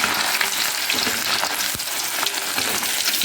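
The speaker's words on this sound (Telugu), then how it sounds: "అట్టే నూనె మరుగుతున్న నూనెలు అయితే వేస్తున్నాను" Food dropped into boiling oil sizzles and crackles steadily, a dense, close frying hiss with small pops, continuous throughout with no voices.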